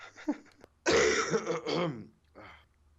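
A sick podcast host coughs and clears his throat in one loud, rough burst, with quieter voice sounds just before and a short follow-up cough after.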